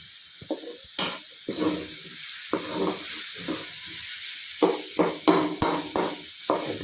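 Cabbage and potato fry being stirred in a pan: a soft continuous sizzle with repeated scraping strokes of a spoon in an irregular rhythm, close and moderately loud, no voices.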